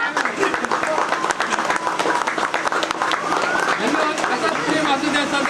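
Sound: audience applauding loudly

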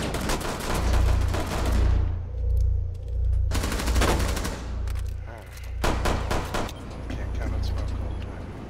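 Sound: gunfire in the video game Rainbow Six Siege

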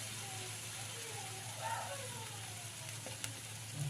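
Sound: spices sizzling while sautéing egg curry in a pan

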